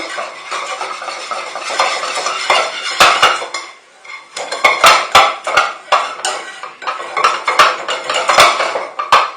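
Metal whisk stirring cornstarch into a béchamel sauce base in a pan for lasagne, with rapid, repeated scraping and clinking against the pan in bursts, a short pause midway, then sharp knocks of the whisk on the rim.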